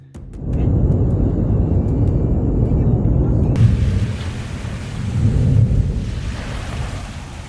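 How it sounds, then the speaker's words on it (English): Deep rumbling roars rise and fall as Indonesia's Ruang volcano erupts amid repeated lightning, heavy and sustained, with a hissing wash over the low booming. "Ruang volcano erupted while lightning flashed repeatedly, an astonishing natural display."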